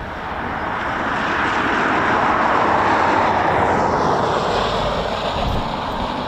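Eurofighter Typhoon FGR4 jet at RAF Coningsby, a steady broad engine roar that swells over several seconds and holds, heard from a distance without talk.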